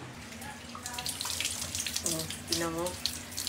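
Tap water runs steadily while a dog is being bathed, a close, constant splashing rush into a basin with a brief gurgle partway through, as a person speaks briefly over it.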